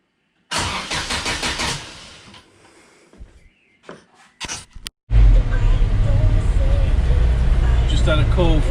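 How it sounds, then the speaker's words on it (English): A car engine cranks with a rapid, rhythmic starter churn, goes quiet amid a few clicks, then catches and roars into a loud, steady idle close by. "ignition on, got those two lights, and we should crank."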